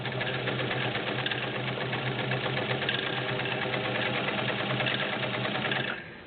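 A vintage Kenmore 1752 sewing machine stitches through six layers of denim at a steady, moderate pace, giving an even mechanical whir and rhythmic clatter that runs continuously before slowing to a stop at the end.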